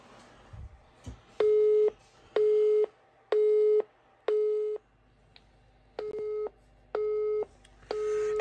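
A telephone busy signal sounds through the handset as a clean, loud, repeating tone, eight regular beeps with short gaps after a couple of faint clicks at the start.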